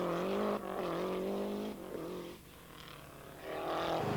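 A loud Lancia rally car engine roars and revs close by during testing, pitch rising and falling as it accelerates and shifts, then surging again at the end.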